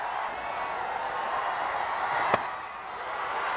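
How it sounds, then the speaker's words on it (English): Vociferous crowd at West End Park for an India A versus Pakistan A cricket match in the Asia Cup Rising, a steady wash of distant cheering with one sharp crack cutting through near the end. "There's a vociferous crowd at the West End Park"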